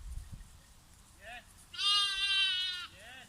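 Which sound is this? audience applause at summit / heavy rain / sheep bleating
sheep bleating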